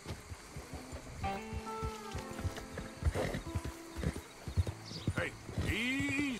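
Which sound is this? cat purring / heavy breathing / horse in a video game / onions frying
horse in a video game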